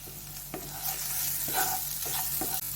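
Chili powder, cumin powder and salt masala is stir-fried in a pan with a continuous close sizzle broken by several spatula scrapes.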